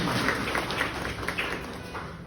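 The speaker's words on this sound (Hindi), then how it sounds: "तो एक बार तालियां आप अपने लिए बजा" Hall full of guests applauding together at a father's retirement celebration after 38 years of service as a naib tehsildar, a steady dense wash of clapping running through the whole stretch without pause.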